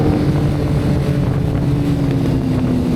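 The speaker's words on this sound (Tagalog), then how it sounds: "Hangin." Wind roars steadily across a microphone on a fast sport motorcycle descending a downhill road, a dense, continuous rush with no voices.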